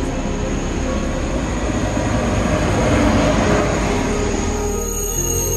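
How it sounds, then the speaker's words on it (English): Passenger train running from Aix-en-Provence to Nice, heard as a steady loud rumble with rail noise and a constant high whine, continuous for several seconds before easing slightly near the end. "Today we're taking the train from Aix-en-Provence to Nice."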